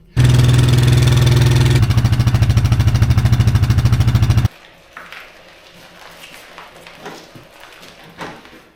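A quad bike engine runs loud and steady, towing a ride-on mower up to a workshop, with a rapid pulsing throb that suddenly cuts off, leaving faint outdoor knocks and rustles.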